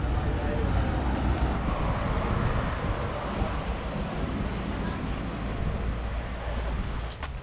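Caribbean Sea surf breaking on the beach at Varadero, Cuba, a dense steady wash of waves mixed with wind rumbling on the microphone, fairly loud and continuous throughout.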